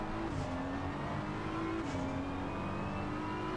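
Race car engine in a GT3 racing video game at Circuit of the Americas, a steady sustained drone with a slowly shifting pitch as the car powers out of a corner, continuous and fairly loud with no speech.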